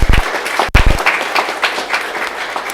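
Applause breaks out at a school board meeting, close and loud clapping from the crowd with a few sharp low thumps near the start, continuing steadily for a few seconds.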